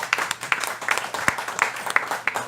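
Audience at a morning peace-forum launch event clapping, a thin scattering of individual hand claps heard up close in a sparse, uneven rhythm.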